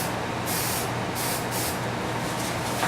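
Spray adhesive hisses from an aerosol can onto wax paper draped over a table, in several short bursts close to the microphone.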